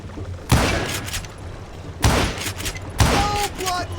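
Gunfire from the Western shooter Call of Juarez: Gunslinger: three loud, booming shot bursts at about one-to-two-second gaps, each ringing and echoing off before the next, with faint game sounds between them.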